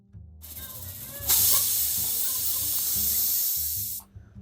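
A pressure cooker full of green chicken curry vents steam in one loud, continuous hissing burst of about three seconds, with quieter kitchen sounds before and after.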